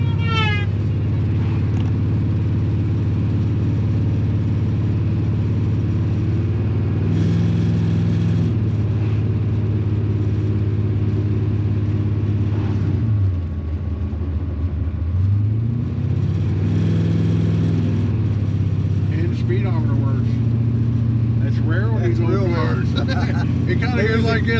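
A 1972 Dodge Dart with 391 rear gears driven at highway speed over 55 mph, about 3,100 rpm: a loud, steady V8 drone and road rumble inside the cabin, swelling and easing a little, with someone talking over it throughout.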